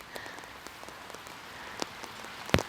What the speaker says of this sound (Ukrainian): І ще 15 секунд звуки дощу, надіюсь, вам чутно.